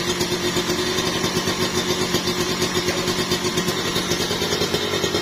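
A Kawasaki Ninja two-stroke with an overbored block runs steadily up close, giving a dense, even, throbbing engine note that stays loud and constant throughout, with no talk.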